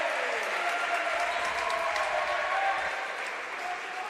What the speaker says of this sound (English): a cheer from the Reading fans on that call